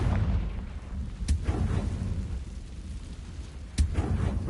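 A fire spell fires in the Hogwarts Legacy video game with two sharp booming blasts a few seconds apart, set over a rumbling, noisy game background.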